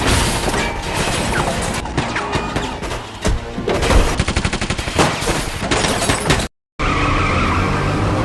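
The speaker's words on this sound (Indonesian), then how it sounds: "terjadi baku tembak menegangkan antara perampok dengan pasukan polisi" Gunfire in a film shootout between robbers and police: loud bursts of rapid shots and crashing impacts in dense, chaotic succession, briefly cut to silence near the end before the action resumes.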